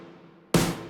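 A single dry snare drum hit from a pop-production sample pack, unprocessed by any frequency shifter, cracks in once after a near-silent lead-in and rings out briefly.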